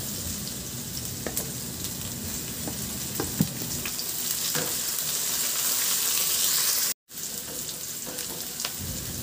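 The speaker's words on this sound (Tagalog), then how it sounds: "igisa ko na rin yung bawang at saka yung luya." Garlic, ginger and onion sautéing in hot oil in a pan for chicken soup, a continuous close frying sizzle with occasional stirring scrapes and a brief dropout near the end.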